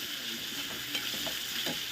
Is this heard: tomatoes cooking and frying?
yes